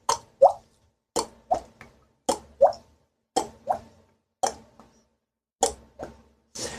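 A mouth vocally imitating a water droplet falling into water, a series of short hollow plops repeated about nine times in an uneven rhythm, close and clear with silence between them.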